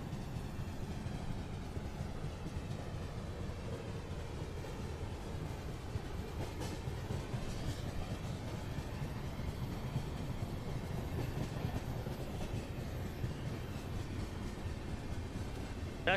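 A train passes in Microsoft Train Simulator, an Indian express between Mumbai and Nasik Road, with a steady low rumble and faint rolling wheel clatter that stays even throughout.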